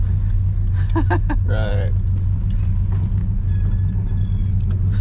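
A 1970 Dodge Super Bee with a new 3.73 Sure-Grip rear gear rumbles low and steady while cruising, heard from inside the car as a person speaks briefly over it.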